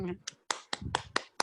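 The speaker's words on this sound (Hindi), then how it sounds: "भाई ताली तो बजाओ" A few hand claps ring out from an audience at a meditation class, sparse sharp slaps spaced unevenly over a second and a half, close by and overlapping with someone talking.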